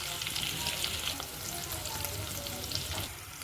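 Masala hits a hot pan for cashew pulao with a steady, dense sizzle and frying crackle, close and continuous, with no voice.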